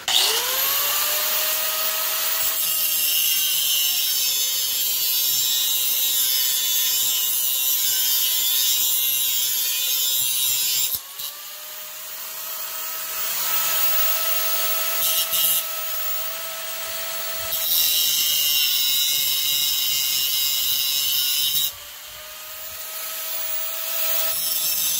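Metal part being cut off a fabricated hydraulic steering setup, with a loud, continuous abrasive grinding whine that runs in three long passes, the pitch sagging and recovering under load, with no talking.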